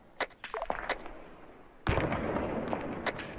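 Gunfire in the military shooter Arma 3 during a squad deployment, a scatter of distant sharp cracks followed by a louder nearby burst and sustained rolling fire.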